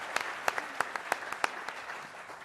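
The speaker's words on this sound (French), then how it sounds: "On peut l'applaudir, oui." Applause from a small audience at a live Vendée Globe sailing event, a handful of distinct claps over a steady background hiss, moderately quiet and brief.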